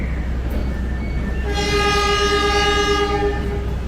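A KRL commuter train rumbles steadily nearby at Bekasi station as a long, bright horn tone sounds over the rolling noise, loud and continuous.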